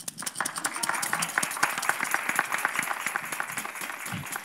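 Rhythmic applause from a crowd at a Christmas novena celebration, brisk claps running steadily throughout with voices mixed in underneath.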